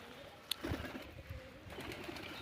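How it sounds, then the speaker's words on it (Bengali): Pigeons in the morning give soft, low cooing notes that are faint and somewhat distant, with a brief sharp click near the start and no voices. "যে পায়রা আছে"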